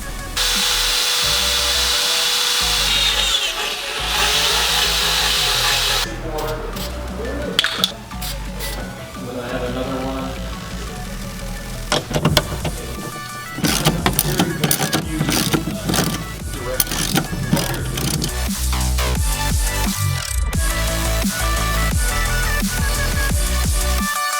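A power drill drills into the metal body of a Nissan 240SX coupe in loud bursts, its whine rising and falling with grinding, rattling metal contact, interspersed with clatter and a brief voice.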